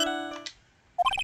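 A short electronic phone ringtone from the Phoenix Wright: Trials and Tribulations game plays alone, with a brief melodic chime phrase, a quiet gap, then a bright burst of ringing notes.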